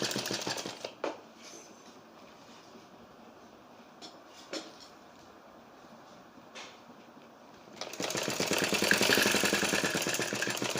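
A sewing machine stitching the back panel of a kurti, its steady mechanical whir running low for most of the stretch with a few sharp clicks, then growing louder and busier near the end.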